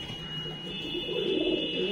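Bhura (brown) pigeons coo in low, soft murmurs from a coop, growing a little louder toward the end, with a steady high electronic tone running underneath throughout.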